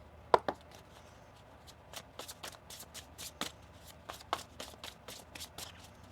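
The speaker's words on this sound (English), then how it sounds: "One more shuffle." Tarot cards being shuffled in a series of quick riffling bursts and soft slaps, close and fairly quiet, with no talking.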